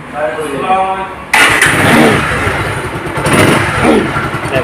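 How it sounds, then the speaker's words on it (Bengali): A Bajaj Pulsar 150 SD ABS motorcycle with about 1,800 km on it starts up: a brief starter whir, then the engine catches and settles into a close, steady idle. "engine sound"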